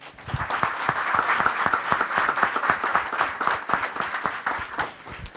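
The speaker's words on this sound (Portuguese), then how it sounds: "Palmas para o Ivo, galera." Audience applauding after a talk at a business event, with steady dense clapping that holds loud for about five seconds before tapering slightly at the end.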